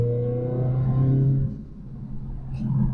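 A turbocharged car fitted with a Turbosmart Kompact dual port blow-off valve revs with a low engine drone that eases off, then builds again with a faint whoosh.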